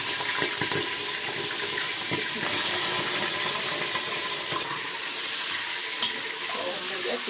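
Washed chicken pieces frying in a spiced masala in a home kitchen pot, giving a steady close hiss and sizzle with occasional stirring clatter and no speech.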